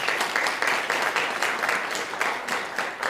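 Applause at a school board of education meeting, a modest group clapping steadily with slight rhythmic pulses, fairly close and moderately loud, with no talk over it.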